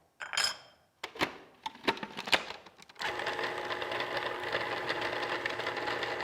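A kitchen machine whirls streusel crumbs with ginger and flour, first with a few sharp clatters and knocks, then settling into a steady, loud mechanical whirring that continues to the end.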